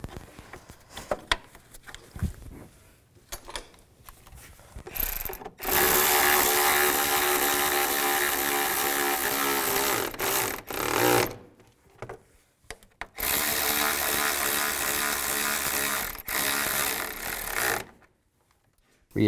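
A tool tightens the bolts on a 2005-15 Nissan Xterra radiator cooling fan in several long, steady whirring bursts separated by brief pauses, with faint clicks and handling noises between them.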